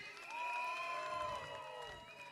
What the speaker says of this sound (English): Can I have a rousing round of applause and cheers from everybody